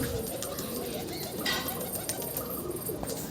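Roller pigeons in a loft cooing amid a busy noisy background, low throaty coos mixed with scattered rustles and clatter.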